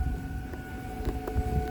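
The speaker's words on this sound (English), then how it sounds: "Well, there goes the tornado sirens." Tornado warning sirens sounding outdoors, steady tones held in the distance beneath low background rumble and faint clatter, with no talking.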